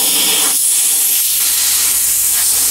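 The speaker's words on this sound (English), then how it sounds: "this is just computer air spray" Compressed air duster blasting steadily during repair work on a Kay K-150 archtop guitar, a loud continuous hiss filling the whole moment with slight dips in pressure, close to the listener and with no talking.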